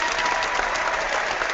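Hands clapping steadily and densely, close and continuous like a small burst of applause, with no talk over it.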